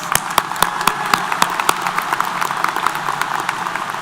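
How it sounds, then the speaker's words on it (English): A commencement audience claps in a round of applause, sharp individual claps standing out over a thinner, spread crowd, fairly near and steady. "Let's give her another big round of applause."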